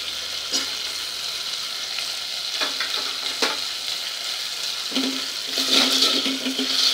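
Green chilies going into hot oil in a pan, a steady hissing sizzle with scattered stirring clicks, swelling louder toward the end, with no one speaking.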